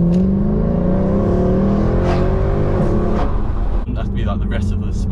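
A Mercedes C63 AMG accelerates hard from inside the cabin, its engine note rising loud and steady over several seconds before a brief break and further revving, with a voice talking over it.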